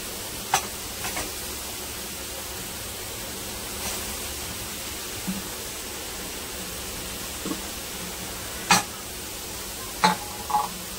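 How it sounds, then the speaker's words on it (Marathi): Grated carrot in ghee is stirred in a wok for halwa: a low, steady sizzling hiss broken by occasional sharp scrapes and taps of the spatula, with no speech. "आपण हलवून घ्यायचं आहे"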